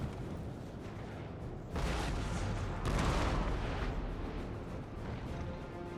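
Cannon artillery booms out on a Napoleonic-era battlefield in Napoleon: Total War. Two heavy blasts arrive a second apart over a constant dense rumble of battle and fade into a sustained roar.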